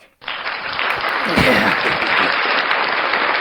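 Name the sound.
round of applause for Miss Maddy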